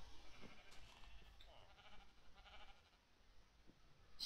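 Sheep bleating in the Minecraft video game, several faint calls scattered over a few seconds beneath quiet game background sound, with no talking.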